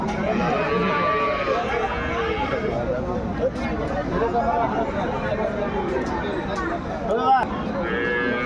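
Cows and calves low now and then amid a busy crowd of people talking at a livestock market, with steady background chatter throughout.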